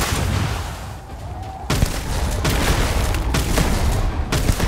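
Gunfire in the Starfield video game, a run of shotgun blasts and booming shots fired in quick succession over a dense, noisy battle background.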